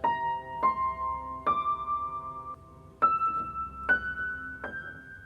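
A sequence of six sustained harmonic-series overtones sounds one after another, each note struck cleanly and ringing with a bright stack of partials, climbing step by step with steady spacing and no voices.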